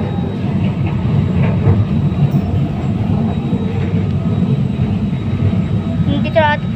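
A Manila LRT Line 1 light rail train rumbles steadily with a low, continuous drone, loud and close, and a voice talks over it briefly near the end.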